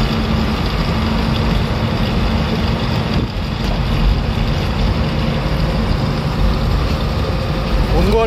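A heavy truck driving on a highway without its container gives a loud, steady engine drone and road rumble throughout, with a constant low roar and no clear pauses.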